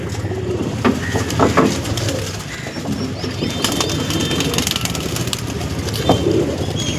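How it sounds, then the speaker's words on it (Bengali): Andhra pigeons in a loft or pen coo in low, repeated rolls with occasional soft wing flaps, a busy, steady flock murmur close by with faint background noise. "দেখো সব পায়রা আছে"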